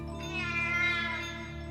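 A single drawn-out meow, close and clear, rising slightly then trailing off with no other sounds around it.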